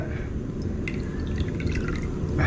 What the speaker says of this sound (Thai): เราก็มาลงเป็นน้ำสต๊อกของเรานิดนึงนะฮะ